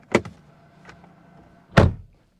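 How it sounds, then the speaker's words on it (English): Door of a Volkswagen ID.4 electric crossover: a short latch click and a faint rattle, then a solid, heavy thud as the door is shut nearby. No voices. "Do a little test of the doors."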